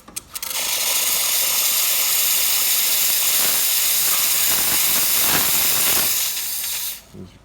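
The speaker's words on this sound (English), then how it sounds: "This is a good level for strong steam." An Expobar espresso machine steam wand, freshly serviced and at about 1.2 bar boiler pressure, releases a loud, steady, close-up hiss for several seconds before cutting off.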